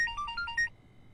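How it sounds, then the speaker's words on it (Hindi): A phone ringtone plays a short, bright electronic melody of a few quick tones, loud and close, then cuts off into quiet. "तड़क दिन तां ये कि फोन आ गया।"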